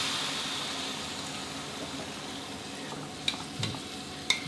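Pork for a red roast pork filling stir-fries in a pan with a little added water, a steady close sizzle and hiss with a few metallic clinks of a spatula near the end.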